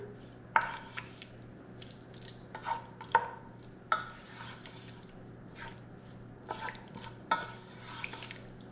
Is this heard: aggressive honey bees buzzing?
no